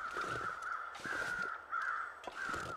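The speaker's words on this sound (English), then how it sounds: "But there are crows" Crows caw again and again in a snowy wilderness in the survival game The Long Dark, several harsh calls overlapping in bursts, fairly loud and close, with no talk.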